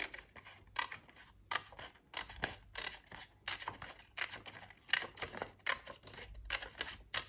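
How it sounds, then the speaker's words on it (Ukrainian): Scissors cutting paper in small snips for a children's craft, a rapid series of crisp blade clicks in uneven bursts, close and clear with brief pauses as the paper is turned. "Ножиці у нас не крутяться туди-сюди, ми рухаємо сам папір."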